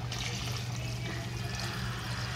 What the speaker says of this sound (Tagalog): Lagyan natin ng tubig na.